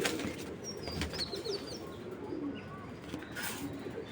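Pigeons kept in a loft give soft, low coos and occasional brief wing flaps, quiet and close, against faint background chirps.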